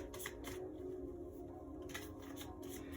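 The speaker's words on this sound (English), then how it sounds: "I'm just going to shuffle the deck" Tarot cards being shuffled, a few quick riffling bursts close up over a steady low hum.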